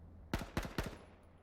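Three sharp gunshot bursts from a firefight in the H1Z1 battle royale game, coming in quick succession at moderate distance and each trailing off with a short echo.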